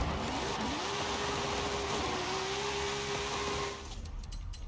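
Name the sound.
drag car wheelie launch in Forza Horizon 5 video game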